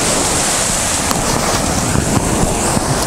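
Ocean waves wash continuously onto a sandy beach, a loud, dense roar of surf with wind buffeting the microphone throughout.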